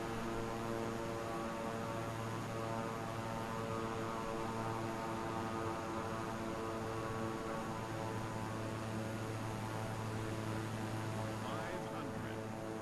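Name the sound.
airplane landing in MS Flight Simulator video game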